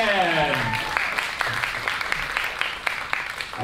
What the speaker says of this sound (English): And the crowd goes wild for Tina again.